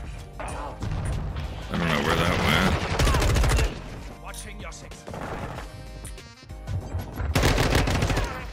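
Rapid automatic gunfire bursts in the Modern Warfare 2 beta multiplayer video game, loud repeated volleys with short pauses and game effects, a player's voice talking over parts of it.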